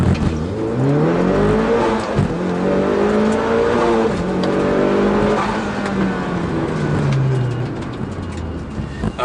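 A 2.3-litre stroker Mitsubishi Evo 9 on E85 fuel with its stock turbo launches on a 0-60 run at altitude, the engine rising loudly through several gears with brief dips at each shift.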